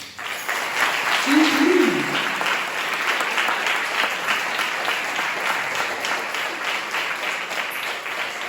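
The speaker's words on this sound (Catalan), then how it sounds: "Davant us poc aplaudiment a la Marta." An audience at an end-of-year school concert applauds steadily, dense continuous clapping that stays loud throughout, with a brief voice near the start.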